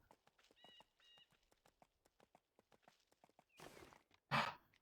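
A horse sentry's hooves in the fantasy game EverQuest 2 clop in a steady, faint walking rhythm. A couple of short chimes sound early, and two louder whooshing bursts come near the end.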